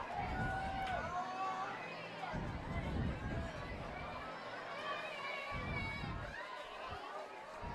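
A crowd at a Wichita Northwest versus West high school varsity football game roars steadily as the Grizzlies run onto the field, with shouting and cheering voices blending into a loud, continuous swell.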